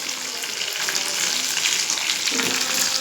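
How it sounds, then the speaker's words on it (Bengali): Chicken wings sizzle steadily in a small amount of hot oil in a small wok, a continuous crackling hiss close by, with faint clinks of stirring. "এখন উইংস ফ্রাই করছি"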